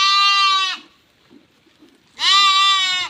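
Two loud, close bleats from a sheep penned apart with its flock on a farm, separated by a short quiet pause.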